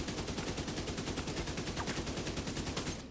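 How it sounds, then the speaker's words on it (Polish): Rapid automatic gunfire from a weapon in The Division 2, a continuous burst of evenly spaced shots at steady volume that stops abruptly at the end. "Tak, sobie strzelam i zobaczymy jak do góry będzie sobie szło."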